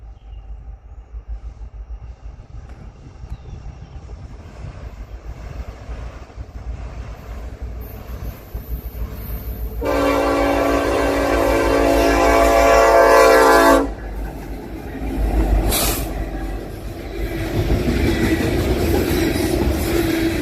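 Norfolk Southern heritage locomotive 1072 leads manifest train 10K past, its horn blasting loudly for several seconds over a steady rumble of rolling wagons, followed by a second shorter horn note and continuing wheel noise.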